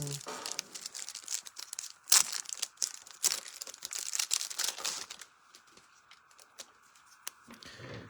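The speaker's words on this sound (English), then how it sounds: "Crinkle, crinkle, crinkle" A Bowman Chrome Hobby card pack's foil wrapper crinkles and tears up close, with dense bursts of rustling that thin out toward the end.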